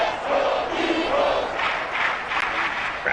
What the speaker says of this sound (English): Crowd here in Philadelphia trying to get behind this Eagles defense.